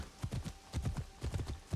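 A horse gallops in the video game Assassin's Creed Shadows, its rhythmic hoofbeats thudding in quick groups of clip-clops, fairly close and steady.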